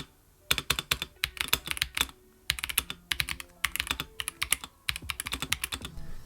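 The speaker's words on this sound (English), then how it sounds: "I chose the keyboard to come with the flamingo switches, so this is how they sound." Rapid bursts of typing on an Epomaker EK68 gasket-mount keyboard fitted with Flamingo switches, soft clacking keystrokes in quick runs separated by brief pauses, close and clear with no talking.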